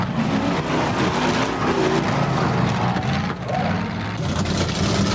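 A lightweight, fast monster truck races an obstacle course, its engine a loud, continuous roar that holds steady throughout, with only a brief dip partway.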